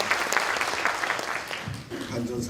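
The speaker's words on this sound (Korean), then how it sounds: "역시 박수로 맞이해 주시면 감사하겠습니다." An audience at a university president's inauguration ceremony claps to welcome a speaker, a brief dense patter of applause that tapers as a voice begins speaking near the end.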